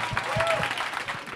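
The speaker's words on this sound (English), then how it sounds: "Can we have a round of applause?" Audience at a panel discussion applauding, steady, even clapping at moderate distance with a faint murmur of voices underneath.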